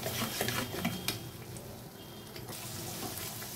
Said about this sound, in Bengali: এখন আমি এগুলাকে খুব ভালো করে কষিয়ে নিব যাতে মশলার থেকে তেল ছেড়ে দেয়